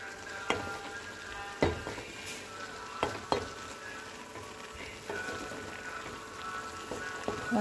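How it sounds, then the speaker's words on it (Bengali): Taba with beans stirred in an uncovered pan: a soft, steady sizzle broken by a few sharp knocks and scrapes of the spoon against the pan. "আমি জাস্ট কেন খোলা রেখে একটু নাড়াচাড়া করে রান্নাটা করছি"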